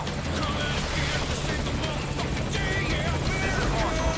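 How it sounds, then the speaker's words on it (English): A helicopter approaches in the video game Metal Gear Solid 5: Ground Zeroes, its rotor throbbing steadily and loudly throughout as a landing-zone chopper, with no speech. "your chopper is very likely to get shot down the longer it sticks around, especially in the hotter landing zones"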